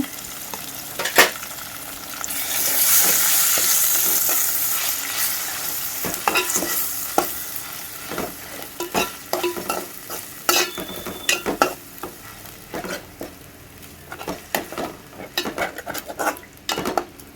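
Chicken liver frying in a pan with ginger-garlic paste, a steady close sizzle broken by repeated scraping and clanking strokes of a spoon against the metal pan, with no talk.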